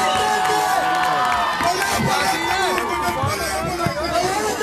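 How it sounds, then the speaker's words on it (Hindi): A crowd of spectators at a final match claps and cheers, with a busy babble of voices and shouts mixed into the steady noise. "तमाशाई तालियां बजाकर दा देते हुए,"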